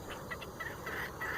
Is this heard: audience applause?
no